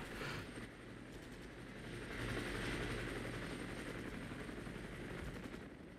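Mi-24 helicopter rotor thrum with bursts of gunfire in a battle game, a continuous low mechanical drone swelling midway, with rapid shots layered in.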